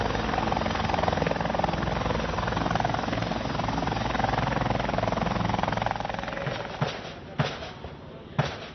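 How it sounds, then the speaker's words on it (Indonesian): A loud, continuous military helicopter rotor roar close by as it arrives carrying reinforcement troops, steady for several seconds, then a few sharp bangs as it grows slightly quieter. "helikopter yang membawa pasukan bantuan juga tiba"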